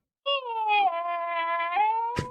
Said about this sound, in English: A horny cat whistles out in the distance.